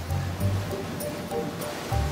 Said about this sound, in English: high-pressure water, washes the beet directly into the factory